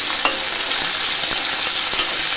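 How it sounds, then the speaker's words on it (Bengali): Potatoes frying in a pan until reddish, with a loud, close, steady sizzle and a few soft spoon scrapes from stirring. "একটু লাল লাল করে ভেজে নেব"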